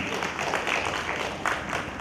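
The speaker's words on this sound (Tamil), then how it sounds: "எல்லாருமே ஒரு உற்சாகமான ஒரு கைத்தட்டல் கொடுக்கலாங்க" An audience claps to welcome a speaker onto a stage at an event, a steady wash of many hands applauding at moderate volume with faint voices mixed in.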